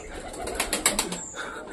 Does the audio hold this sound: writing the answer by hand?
no